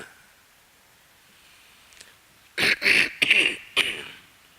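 A person coughs several times in quick succession, close and loud, after a few seconds of near silence.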